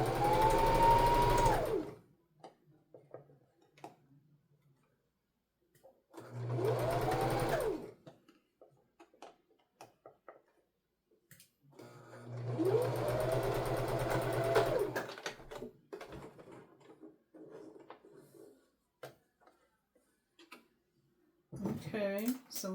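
Sewing machine fitted with a ballpoint needle stitching in three separate bursts of whirring motor hum, each a few seconds long, separated by quiet pauses with light handling clicks.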